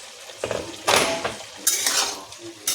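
Lid lifted off a cooking pot of potatoes and soya peas after five minutes covered, a couple of metallic clanks and scrapes followed by a soft hiss from inside the pot, close by.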